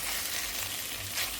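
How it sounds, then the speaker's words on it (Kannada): Grated raw mango frying in a pan with turmeric and freshly pounded spice masala for traditional chitranna, a continuous close, even sizzle with no talking. "ಈಗ ಇದು ಹಸಿ ವಾಸನೆ ಹೋಗೋ ತನಕ ಸ್ವಲ್ಪ ಚೆನ್ನಾಗಿ ಫ್ರೈ ಮಾಡ್ಕೊಳ್ಬೇಕು"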